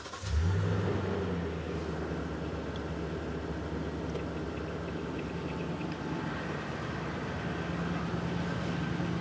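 A Toyota Tundra truck engine idles close by in a steady low rumble, with a faint higher hum layered on top and no voices.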